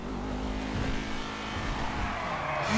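Maserati-style sports car in the video game GTA V, engine droning steadily then tires squealing briefly at the end, moderately loud with no talk.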